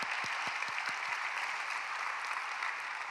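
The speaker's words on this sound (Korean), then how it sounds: "이 고생한 청년들에게 수고했다고 박수 한번 보내주시면 감사하겠습니다" Audience clapping in a church during a Friday revival service, honoring young volunteers who served at children's ministries and an English camp; steady, dense applause from a crowd, fairly loud and sustained throughout with no talk.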